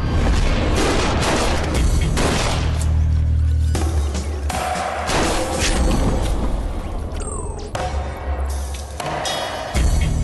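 Gunshots ring out in a dramatic scene, several loud sharp bangs and booms spaced across the scene with rumbling in between and no talking.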